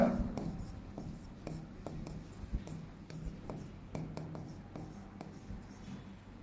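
Marker or chalk strokes on a classroom board give faint, quick scratchy squeaks in short bursts with brief pauses, soft and close in a quiet room.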